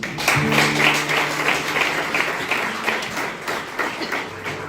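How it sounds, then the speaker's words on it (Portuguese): Church congregation clapping along in steady rhythm, a dense patter of hands over sustained musical tones and a hum, filling the room without spoken words. "aplaude a Jesus"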